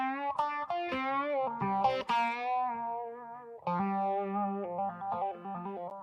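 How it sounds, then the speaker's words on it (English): An electric guitar plays a short melodic line of sustained notes through a Small Stone phaser pedal in a stereo pedal chain, giving a sweeping, swirling tone with no voices. "And then I've got a small stone phaser."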